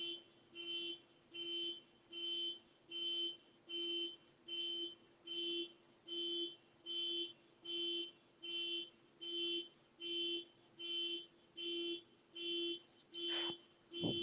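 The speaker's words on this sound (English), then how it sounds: "somebody with the white Subaru. Turn your alarm off." A white Subaru's car alarm beeps faintly in a steady, evenly spaced series of electronic pulses, about one per second and repeating over a dozen times, with a brief louder noise near the end.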